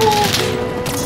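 A rapid burst of automatic gunfire in the battle royale game Call of Duty: Warzone, loud and close, rattling continuously for about a second.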